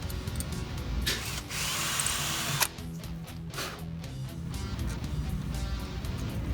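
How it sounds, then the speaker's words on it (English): A power drill bores a hole in a homemade electric guitar, whirring in steady bursts with short pauses and rising pitch changes, close and moderately loud. "we're going to drill nice and slow"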